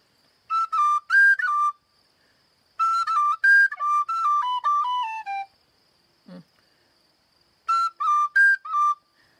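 A tin whistle plays short, bright phrases with quick grace-note ornaments, separated by pauses, close and clear with a brief low thump in one gap.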